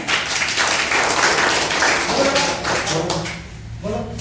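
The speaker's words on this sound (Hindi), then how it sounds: "सलोनी के लिए ताली हो जाए" Schoolchildren clapping for a classmate in an Indian school classroom, a brief burst of scattered hand claps that fades out near the end.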